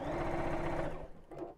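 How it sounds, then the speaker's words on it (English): Close, steady hum and rapid rhythmic stitching of a sewing machine running zigzag stitches, winding down after about a second. "Just sewing zigzags"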